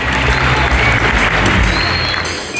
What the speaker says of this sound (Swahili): Hata yetu tumpigie makofi.